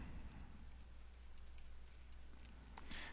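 Faint, quick keystrokes tap on a computer keyboard while an IP address is entered, soft clicks over a low background hum.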